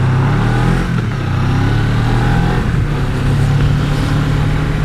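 Steady motorbike engine drone while riding in the wet using engine braking, a continuous mid-pitched hum with slight shifts in tone and no talking.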